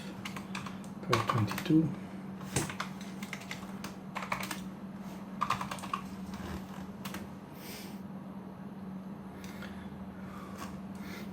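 Rapid clattering keystrokes on a computer keyboard during an Arch Linux install on a UEFI PC, bursts of fast typing broken by short pauses, close and crisp over a low steady hum, with a voice talking in places.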